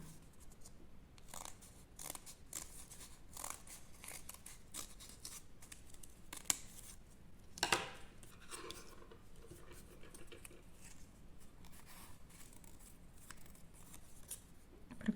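Scissors snip out a leaf shape from folded paper, a close, quiet series of irregular crisp cuts with small rustles of paper between them.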